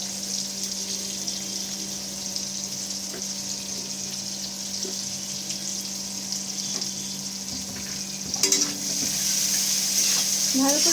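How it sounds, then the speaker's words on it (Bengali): Chopped onions frying in hot oil in a pan, a steady close sizzle with a low hum throughout, brief scraping stirs near the end as the frying grows louder. "ভালো করে পেঁয়াজগুলো লাল লাল করে ভেজে নেব।"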